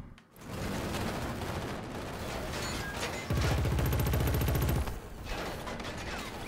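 Gunfire rattles in the Killzone Shadow Fall multiplayer game, with dense, continuous automatic bursts and a heavier stretch of rapid shots in the middle, all close and loud.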